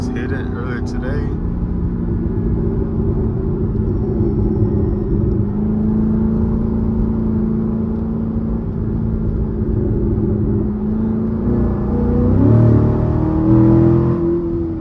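A loud C7 Corvette drones at night from inside the cabin, a steady low engine rumble with a faint rise in revs near the end, and a voice talking over it.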